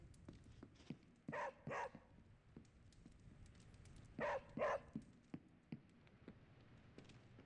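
A puppy barks in the video game Marvel's Midnight Suns, giving two quick pairs of sharp, fairly faint barks a few seconds apart over a quiet background.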